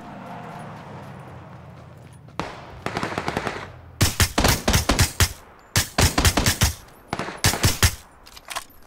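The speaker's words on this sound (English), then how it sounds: "they're shooting the Jeep still" Bursts of automatic gunfire rake a Jeep in the battle royale game PUBG, loud rapid volleys in clustered strings with short pauses, preceded by a softer rumble and lighter shots.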